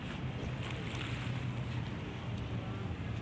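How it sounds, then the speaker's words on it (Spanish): Wind and gentle waves on the calm Red Sea shore at sunset, a steady washing hiss with a low rumble underneath, unbroken and moderately loud, with no voices. "Pero miren, este es el Mar Rojo."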